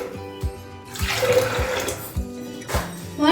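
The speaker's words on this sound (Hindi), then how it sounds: "बॉईल करने के लिए प्रेशर कुकर ले लिए और इसमें डालेंगे 2 कप पानी" Water poured into a pressure cooker, a short close splashing pour over faint background hum, fairly quiet.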